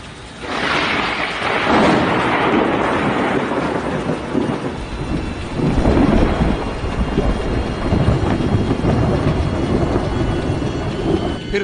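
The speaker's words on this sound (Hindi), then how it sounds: "तेज बारिश के साथ बिजली कड़की और नारियल के एक पेड़ पर जा गिरी।" Heavy rain pours steadily through a cyclone storm in West Bengal while thunder rumbles loudly from a lightning strike on a coconut tree, the roar swelling and surging again midway.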